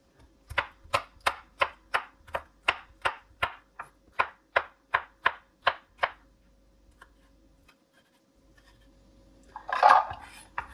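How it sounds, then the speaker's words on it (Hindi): Green chillies and capsicum being chopped with a knife on a board: about sixteen crisp, evenly spaced strikes in a steady rhythm, then a pause and a brief louder clatter near the end. "अब इनकी कटिंग करेंगे।"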